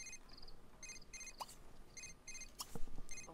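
A telephone rings in The Sims 3 video game, as quiet, bright electronic trills repeated in short paired bursts, with a few faint game clicks in between.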